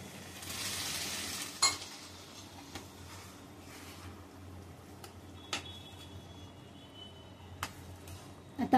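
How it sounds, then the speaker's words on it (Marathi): Water is poured into a simmering Marathi black pea curry, producing a soft sizzle and stir noise with scattered clicks of a spoon against the pot, close and fairly quiet. "आता जरा आपण थोडं पाणी टाकूया. जे पाणी आहे वाटाणे तेच मी वापरणार आहे."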